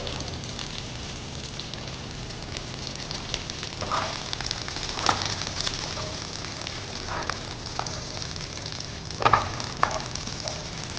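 Onions and poppy seeds sauté in a pan for egg gravy, a steady close sizzle with faint crackles and occasional stirring scrapes, no talk.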